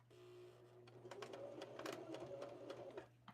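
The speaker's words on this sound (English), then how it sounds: "Okay, so I just did a back stitch." A home sewing machine running a short back stitch while sewing a doll, a steady mechanical whirring hum with rapid needle ticking that speeds up and stops, quiet, with a constant low background hum and no talk.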